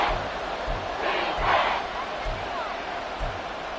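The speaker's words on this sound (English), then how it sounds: "the crowd getting into it as we come up on a big third down" Stadium crowd in Madden 23 roars and cheers ahead of a big third down, a steady wash of noise swelling midway with soft rhythmic thuds underneath.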